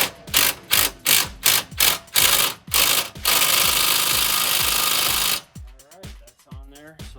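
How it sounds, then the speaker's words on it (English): Impact wrench with an 18 mm socket tightening a strut bolt on a 2011-2014 Mustang front strut assembly: a rapid series of short, loud hammering bursts, then one sustained rattling run of about two seconds, followed by someone talking up close. "An 18 millimeter with your impact."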